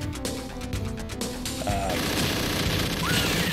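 Rapid arcade gunfire from Alien 3: The Gun (1993) crackles in quick bursts, loud and close, mixed with crashes and electronic game effects.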